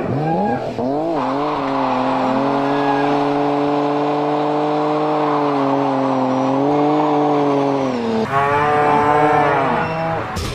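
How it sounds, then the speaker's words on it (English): Tires on a Nissan Skyline R34 squeal loudly and continuously during a burnout, a sustained high-pitched screech over a roaring engine, rising again near the end. "Everywhere he goes, one burnout after another."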